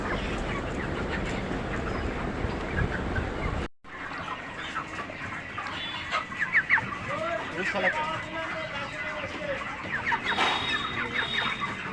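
Many large chickens cluck and chatter together in a crowded poultry farm coop, with a brief drop in the background hum partway through as the power cuts out.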